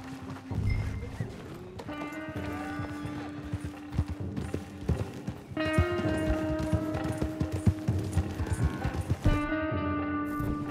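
A horse's hooves clip-clop in Red Dead Redemption 2, a steady walking rhythm of hoof strikes heard close with a tonal game music bed underneath.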